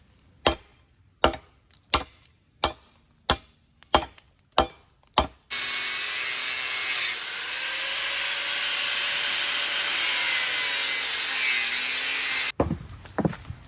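A handsaw cutting through a wooden stick in one long continuous grinding stroke sequence, close and clear, preceded by a series of sharp, evenly spaced knocks and followed by a few light taps.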